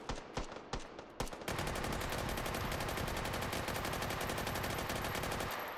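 Old west guns firing in the VR game Hot Dogs, Horseshoes & Hand Grenades: a few sharp, separate close shots, then a loud, sustained burst of rapid gunfire that carries on to the end.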